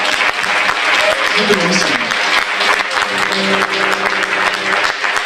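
An audience applauds at a book presentation, steady clapping throughout while a person speaks briefly over it and music or singing begins to rise underneath.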